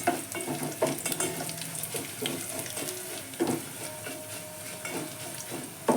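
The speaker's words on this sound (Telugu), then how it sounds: "మంచిగా తాలింపు వేయాలి. ఆ మినప్పప్పు, వెల్లుల్లి మంచిగా కలర్ రావాలండి." Urad dal and garlic sizzle in hot oil for a tempering, a steady dense crackle with stirring clatters and scrapes throughout, close and fairly loud, with no voices.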